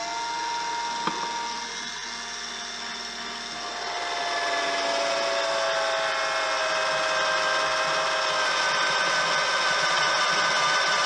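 A homemade bench drill built from an old cordless drill whines up after a brief click, its motor spinning steadily and loudly at constant speed for several seconds, alone without talk.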